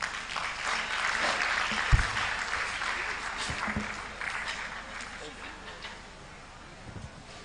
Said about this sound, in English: Another round of applause for Professor Kemi Rotimi.